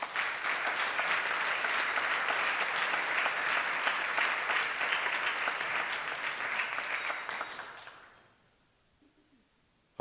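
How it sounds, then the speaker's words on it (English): A hall audience at a lawyers' association general assembly applauds the Brussels teams with dense, sustained clapping for about eight seconds, then fades quickly to near silence. "A big round of applause for the Brussels teams"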